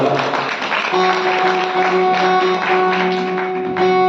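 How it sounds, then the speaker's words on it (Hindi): An audience at a Bhagavat katha religious discourse in Vrindavan claps for an introduced guest, a steady ripple of hand claps running the whole time alongside a sustained tonal drone, likely music. "इनके लिए जोरदार तालियां"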